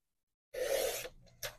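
A paper trimmer slices a quarter inch off a sheet of card stock, giving a short close rasping swipe. A brief softer scrape follows, and nobody talks.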